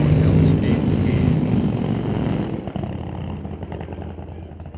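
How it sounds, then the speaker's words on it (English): Drag racing car at a Doorwarz race, its engine going on and off the throttle. A loud, close roar dominates at first, then eases and fades slightly under overlapping commentary. "he was on and off the throttle"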